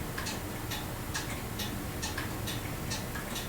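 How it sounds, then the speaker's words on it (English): A kitchen clock ticks steadily, each tick a faint, even click at a regular pace over a constant background hiss of room ambience. "I can hear the clock ticking in the kitchen."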